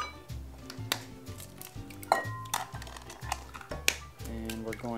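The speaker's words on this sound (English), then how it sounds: "I'm gonna crack 4 eggs into this bowl" Four eggs are cracked one after another into a bowl, each giving a crisp tap and a small click, spaced about a second apart over a low steady background hum.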